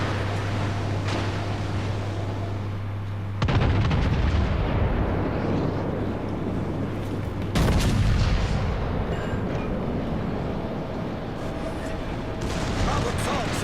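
Battleship North Carolina's naval guns in a video game fire in heavy booming salvos, two big blasts a few seconds apart followed by a third, each with a long rumbling tail over a steady engine hum.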